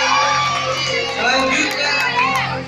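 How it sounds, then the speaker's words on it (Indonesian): Audience at a girls' school fashion show at a junior high in Lhokseumawe cheers and applauds, a dense, loud, continuous wash of shouts, whoops and clapping with no pauses. "Tepuk tangannya mana?"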